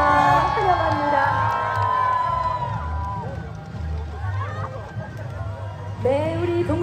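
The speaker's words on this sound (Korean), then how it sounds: "다시 한번 힘찬 응원의 박수를 보내드리겠습니다" A festival crowd at the Lotus Lantern Festival in Seoul cheers and whoops for Dongguk University students parading with lanterns, an excited, shouting hubbub of many voices and loud spoken address carrying over it, with a fresh swell near the end.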